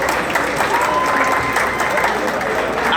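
An audience at an album signing event claps for a performer, a loud, continuous burst of close applause from a crowd, with voices mixed in beneath.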